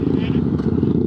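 A motorcycle rides a winding hill road between Patiala and Barog, its engine a steady, loud, close rumble throughout, with a voice talking over it.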